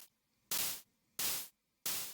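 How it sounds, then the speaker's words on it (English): Three bursts of stereo white noise, made from two stacked samples panned left and right, hiss on the offbeat in an even rhythm, each cut off abruptly with quiet gaps between. "we have these kind of offbeat stereo white noise samples"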